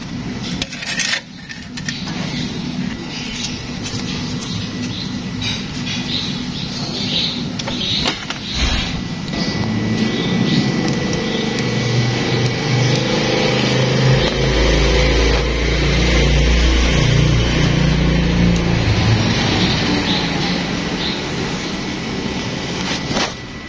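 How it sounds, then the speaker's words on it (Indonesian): An engine running rough on old Caltex CX Supreme oil gives a steady, coarse mechanical rumble with scattered clicks and clatter, swelling in low-end heaviness midway through. "Yang jelas olinya sudah bikin suara mesin kasar ya."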